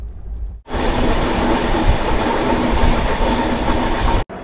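The Maurya Express, train number 1528, running from Gorakhpur to Ranchi, rumbles loudly with a steady roar and rattle of carriages, beginning abruptly after a brief quiet moment.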